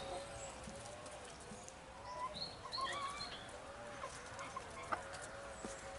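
Chickens in a backyard poultry run jumping for hanging food give off steady clucks and squawks. A few brighter calls rise over a constant low rustle of background noise.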